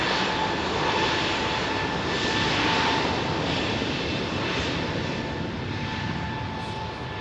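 Singapore Airlines Airbus A380 at London Heathrow, a steady loud jet roar with a whining tonal hum held throughout, fairly near and alone without voices.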